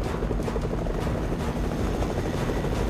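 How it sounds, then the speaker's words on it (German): A helicopter flies toward the player in Fortnite Mobile, its rotor giving a loud, steady low thumping drone throughout with no talking. "Auf einmal kommt da einfach so ein Hubschrauber auf mich zugeflogen"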